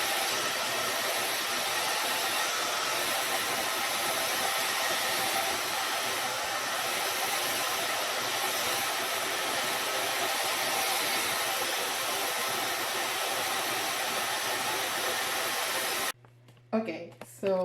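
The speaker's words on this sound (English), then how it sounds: "I finished blow drying it" A hair dryer on its cool setting blows steadily close up while drying a wet potted plant, a constant rushing whoosh that runs for about sixteen seconds and then cuts off, followed by a person talking.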